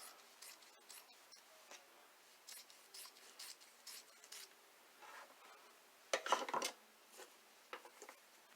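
Scissors trim excess satin and fabric from a sewn scrub cap seam, giving a quiet, close series of crisp snips and light rustling, with a louder burst of cutting and handling near the end.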